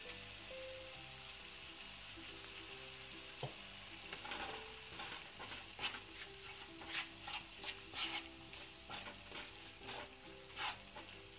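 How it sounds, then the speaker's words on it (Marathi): Ground green chilli paste fried on a low flame for Maharashtrian moong bhaji, a soft, steady sizzle with repeated stirring scrapes over a faint hum, quiet and close. "बारीक गॅसवरच आपल्याला वाटण परतून घ्यायचं आहे।"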